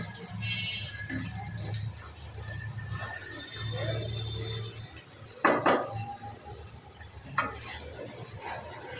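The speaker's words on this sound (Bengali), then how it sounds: "আমি ভালো করে নাড়াচাড়া করছি" A spoon scrapes and stirs spice paste cooking in a pan for broiler chicken with jackfruit seeds, giving soft sizzling and metallic clinks, with two sharper knocks against the pan near the middle.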